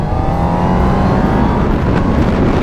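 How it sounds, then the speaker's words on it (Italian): Full-throttle exhaust roar from a Honda CB1000R, Ducati Monster 1200S or Triumph Speed Triple motorcycle under hard acceleration, a loud, steady engine note rising in pitch throughout. "Rumore molto bello allo scarico, è silenzioso, però in piena apertura c'è anche una bella grinta."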